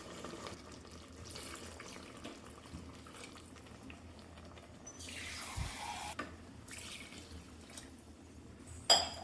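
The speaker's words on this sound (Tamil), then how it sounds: "இப்போ 2 டம்ளர் தண்ணி நான் ஊற்றுறேன்." Water is poured into a pot for biryani rice, a faint trickle that swells into a brief, louder rushing pour midway, followed by a sharp clunk at the end.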